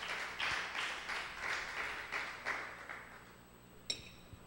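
Church congregation applauding at a sermon, a steady patter of rhythmic hand claps, fairly faint and distant in a reverberant room, fading out before a short bright ping near the end.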